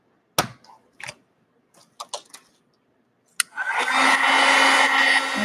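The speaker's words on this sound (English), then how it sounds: "me dry this real quick." Heat tool drying expanding mousse on art coins: a few sharp handling knocks and taps, then the gun switches on with a loud, steady blowing whir that continues to the end.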